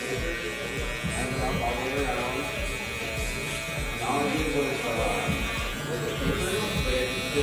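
Electric hair clippers fitted with a half guard, lever open, buzz steadily while cutting a mid fade, running continuously under a barber's talk with light pressure strokes.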